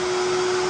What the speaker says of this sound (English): I do recommend a dryer. It's kind of loud.